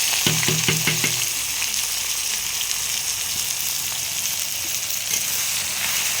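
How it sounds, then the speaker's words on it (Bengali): Chopped onions frying in hot oil with whole garam masala for a chicken dish, a steady close sizzle running throughout, with a few brief stirring knocks near the start. "একটু ভালো করে ভাজা ভাজা করে ভেজে নেব।"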